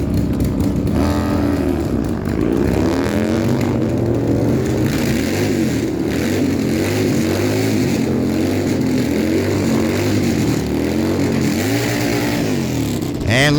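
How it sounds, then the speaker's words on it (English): Harley-Davidson motorcycles, a 2024 Low Rider and a 2009 bagger, race side by side at Miramichi Dragway, engines roaring loud and steady throughout, with the tone rising and falling through the gears. "The 2024 Harley Lowrider Street. On the right side, Kendall Bentley out of Truro, Nova Scotia. 2009 Harley Bagger."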